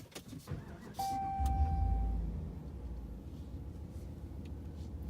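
A chime sounds, then a 2019 Ram Rebel pickup truck engine cranks and catches, settling into a steady low idle inside the cab.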